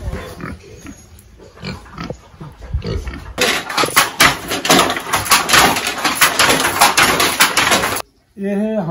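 Farm pigs at a Boro tribal homestead in Bodoland, Assam grunt and squeal in loud, irregular bursts, with a busy stretch of overlapping calls and some brief human speech mixed in near the start.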